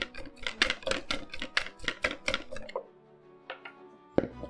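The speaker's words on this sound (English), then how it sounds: "Then we're going to beat that. We're just looking for it to look frothy." Quick rhythmic clatter of a whisk or utensil beating a mixture in a bowl until frothy, a dozen crisp close strokes that stop, followed by a few isolated taps.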